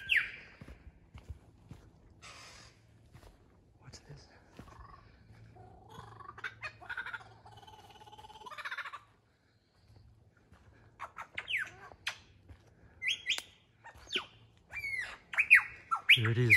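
A lyrebird in the bush of the Cathedral Ranges runs through a long string of varied calls, squawks, whistles and mimicked noises in irregular bursts, some close and loud, with quieter gaps between.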